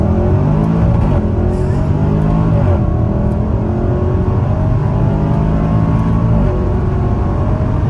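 A very loud SUV engine and exhaust roar steadily and close, with a continuous deep rumble and slight shifts in pitch as the revs change.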